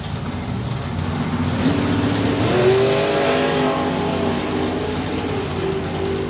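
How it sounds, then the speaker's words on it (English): Ex-pro mod pro street drag car, 776 dial-in, launching softly down the strip at the FIA FIM main event, its engine note climbing steadily and loud as power builds through the top end, with no voices over it. "Very soft launch there for Bonnie, but the horsepower rolls in through the top end."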